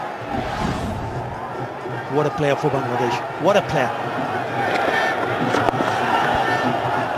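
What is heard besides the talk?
cricket stadium crowd cheering and applauding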